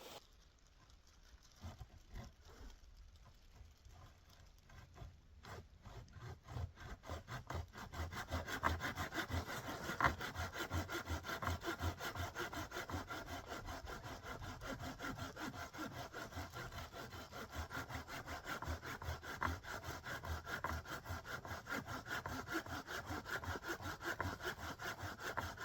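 A hand saw cuts notches into a piece of wood. A few scattered strokes come first, then rapid, rhythmic rasping strokes continue steadily, close up and with no talk.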